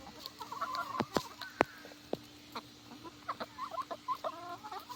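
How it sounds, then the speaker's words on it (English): Farmyard chickens cluck in short, irregular bursts at close range, with a couple of sharper louder squawks early on and quieter chatter continuing throughout. "Get back in there, chicken."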